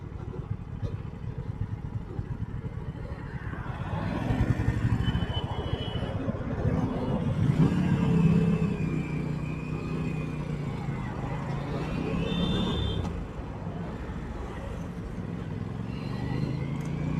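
A motorcycle riding on a road near Hyderabad on a Sunday breakfast ride, with a rumbling engine and road noise that swells with acceleration around the middle, plus wind buffeting and some faint traffic.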